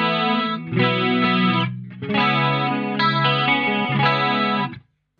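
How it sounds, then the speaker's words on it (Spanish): Clean-channel electric guitar through an Eventide H90 with two compressors and chorus, playing sustained shimmering chords in two phrases with a brief gap, steady and loud, then cut off; no voices. "Canal limpio tengo compresión, dos compresores, ¿sí? Y chorus,"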